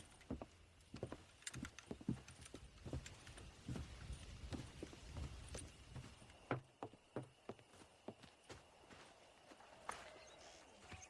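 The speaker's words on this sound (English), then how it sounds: "The horse breaking mini game." Horse hooves clip-clop in the Red Dead Redemption horse-breaking mini game, with irregular, fairly close thuds and clops in uneven bursts over a quiet background.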